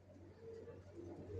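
Racing pigeon squabs of the Johnson long-face line, original racers, coo softly in a loft, a low steady murmur of repeated coos with no talk over it.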